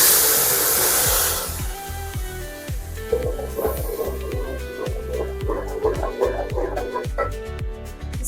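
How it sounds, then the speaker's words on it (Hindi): A blended paste of onion, tomato and garlic hits hot oil for a Karachi-style masala fish curry, with a loud burst of hissing sizzle at first. It then eases to a softer, steady frying crackle with irregular clicks and taps nearby. "इसके बाद जो है हमने मसाला जो ब्लेंड किया है, प्याज, टमाटर और लहसुन,"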